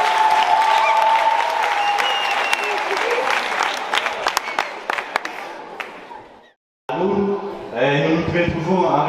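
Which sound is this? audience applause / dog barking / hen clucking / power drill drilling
audience applause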